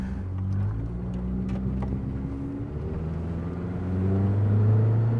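A Honda CR-V with a swapped B18 cylinder head drives at moderate throttle, its engine a steady low rumble with harmonic drone that swells louder near the end, no talking over it.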